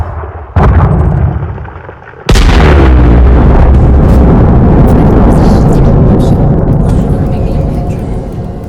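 A nuclear-style detonation in the Elite Dangerous space game: a sharp, loud blast followed by a second massive explosion that rolls into a long, sustained roar as it slowly fades.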